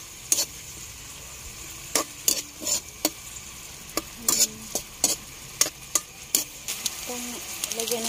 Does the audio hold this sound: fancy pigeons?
no